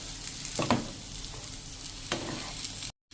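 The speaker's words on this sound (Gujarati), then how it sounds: "આ રીતે હવે આપણે મસાલા સાથે જ આ બટેટાનું મિશ્રણ મિક્સ કરી લેશું" Potato mixture being stirred with masala in a pan, with a soft frying sizzle throughout and two distinct scraping stirs, then a brief cutoff at the end.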